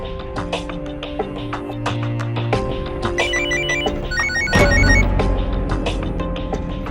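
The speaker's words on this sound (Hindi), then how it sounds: "रोहित, मुझे चैनल से बार फोन आ रहा है" Loud, close telephone ringtone with a repeating electronic melody of bright tones, playing on continuously in a television crime drama scene.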